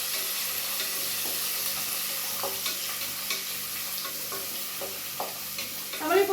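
Coconut pieces frying in a pan as part of a squid roast, stirred with a utensil: a steady close sizzle with repeated scraping strokes, growing louder and busier toward the end.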